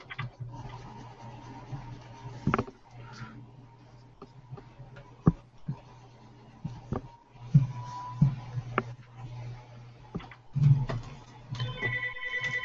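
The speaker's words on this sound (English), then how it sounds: "Why is that phone ringing?" A telephone rings in repeated bursts of bell-like tones across a quiet room, moderately loud against a low steady hum, with a few sharp knocks and clicks between rings.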